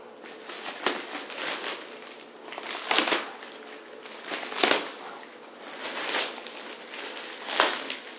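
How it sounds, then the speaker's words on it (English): Packaging for an SP4 18 subwoofer crinkles and crackles as it is unwrapped, coming in irregular bursts of crumpling and tearing at close range with brief quieter gaps between handling, no talking. "let me unwrap this and I'll let y'all see it"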